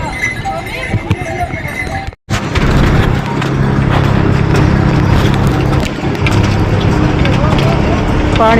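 Horses on a mountain pilgrimage path to the Char Dham shrines clop along amid a busy crowd, with steady hoof knocks and a possible bell under near-constant talk and ambient noise.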